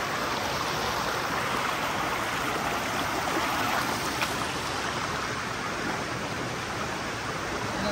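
A forest stream in a wooded camping area near Nikko, Tochigi, flows with a steady, dense rush of water, constant and fairly close, with no voices over it.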